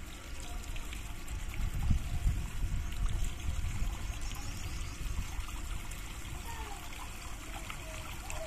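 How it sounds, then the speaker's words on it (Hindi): A household electric water pump motor runs steadily while water gushes and trickles continuously at close range, a dense, even flow with no talk over it. "और वो चल गई मोटर और वो आ गया पानी।"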